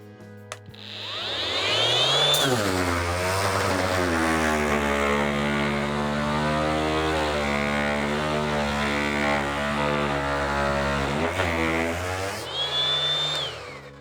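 A Procraft PX20BL cordless brushless random orbital sander whirs up and runs steadily at maximum speed with a droning, buzzing tone, then winds down briefly and revs up again at the end.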